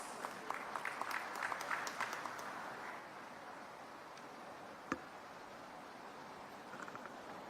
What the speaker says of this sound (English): Let's all together welcome him with a thunderous round of applause.